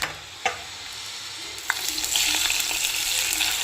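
Curry leaves hit hot oil on a stove for a Telugu daddojanam tempering, and a steady close sizzle builds after a couple of sharp clinks, with no talking.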